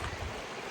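A river stream flowing over rocks in a valley, a soft, continuous rushing and gurgling wash at moderate distance, with no voices.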